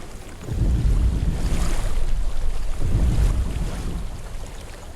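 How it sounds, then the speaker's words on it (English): Flowing water in the video game Hellblade: a steady, broad rushing wash with gentle surges, heard alone with no voices. "I hear water."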